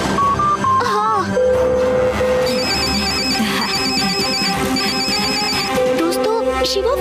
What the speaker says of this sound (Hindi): शिवा फोन नहीं उठा रहा है।